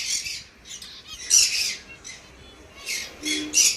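A small bird gives repeated sharp, shrill squawks in short bursts, close by and fairly loud, with brief pauses between calls.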